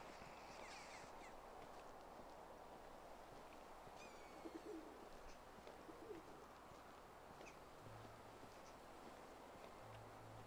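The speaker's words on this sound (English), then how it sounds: "saw a bird up here" A bird coos faintly in a wintry outdoor scene of the game Medieval Dynasty, soft low calls appearing a few times over a constant wash of ambient wind-like noise.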